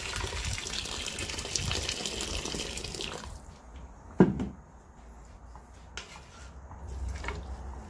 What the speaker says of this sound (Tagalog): lalagyan ko na ito ng tubig.